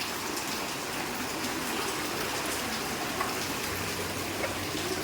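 Steady rain pours outdoors as a dense, even hiss with no pauses, filling the whole stretch at a constant level.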